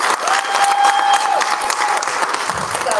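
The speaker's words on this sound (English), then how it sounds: "Can we give this group a big round of applause?" An audience at a college State of the College address applauding a group on stage, loud, dense, continuous clapping throughout, with a sustained whistle-like tone cutting through briefly.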